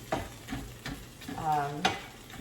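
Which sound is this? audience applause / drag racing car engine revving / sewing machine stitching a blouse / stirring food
stirring food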